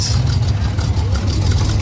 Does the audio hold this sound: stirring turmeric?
no